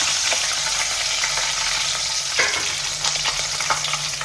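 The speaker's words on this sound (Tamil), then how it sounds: "வெங்காயத்தை போடணும். நம்ம அது பூண்டு பக்கம் போட்டுக்குவோம்." Onions and garlic sizzling in a pan for a fish and prawn curry, a constant close crackle with occasional spoon-stirring knocks and scrapes, no one speaking.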